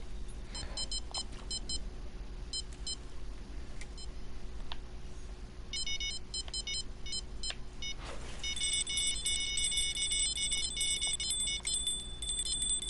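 A fishing bite alarm in the video game Fishing Planet beeps in short repeated bursts, then settles into a steadier, continuous electronic beeping over a low steady hum.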